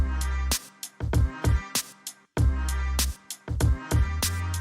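Producer's hip-hop beat, a mixed music track with punchy booming bass hits and drums in a choppy, start-stop rhythm, played alone and fairly loud.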